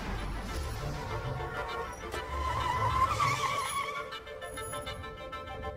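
A taxi cab driving at about 20 miles per hour speeds up as its engine note climbs and swells toward the middle, then settles, heard at moderate volume.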